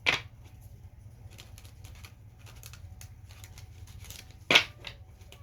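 Cards shuffled for a reading make two brief riffling bursts, one at the start and one near the end, with soft scattered card taps between them and no speech.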